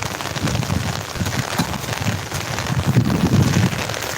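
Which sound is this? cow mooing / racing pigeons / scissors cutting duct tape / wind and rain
wind and rain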